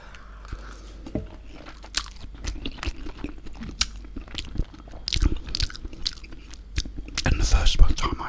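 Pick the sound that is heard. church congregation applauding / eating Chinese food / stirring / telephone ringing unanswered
eating Chinese food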